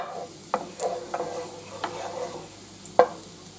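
Garlic sauteing in butter over medium heat for sauteed green beans, a soft steady sizzle broken by a few sharp stirring clinks and scrapes of a utensil against the pan.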